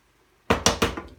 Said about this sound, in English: You can hear it cooking right now.